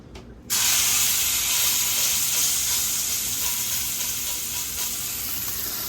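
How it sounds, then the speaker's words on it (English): Pork tenderloin hits a hot pan and bursts into a loud, steady sizzle that holds with a bright, hissing fry for several seconds after a brief quieter start. "now I'm gonna start searing this"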